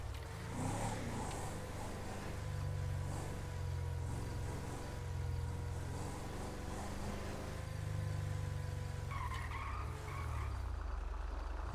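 Car engine driving and tires skidding in the video game GTA V, a steady low engine drone with tonal whine running throughout, loud and continuous with a brief squeal near the end.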